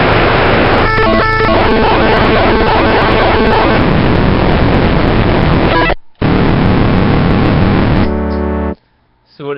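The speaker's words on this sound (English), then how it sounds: "I want to demo this noise pedal, the degrader shifter." A degrader shifter noise pedal turns a simple tone into harsh, dense broadband noise, loud and continuous with a brief dropout mid-way, then a cleaner buzzing tone before it cuts out.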